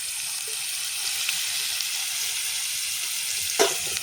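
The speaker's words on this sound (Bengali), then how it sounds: "ওই ফোড়নের মধ্যে আমি এই যে আলুগুলো ভাজা দিয়ে দিচ্ছি।" Fried potatoes dropped into hot tempering spices in a pan, giving a steady, loud, hissing sizzle throughout, with a brief clatter near the end and no talking.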